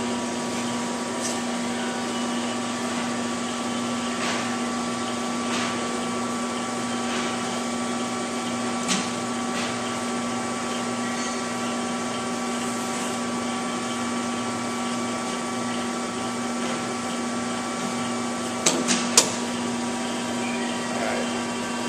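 A hydraulic universal testing machine hums and whines steadily as it pulls a test coupon held in its grips, a constant mechanical drone with a few faint clicks and taps near the end.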